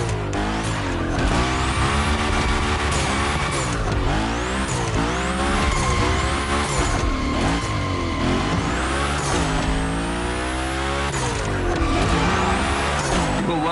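Drifting car in the racing game The Crew Motorfest, a Hoonigan gymkhana car with engine revs rising and falling through gear changes and tire squeal from long slides, loud and continuous.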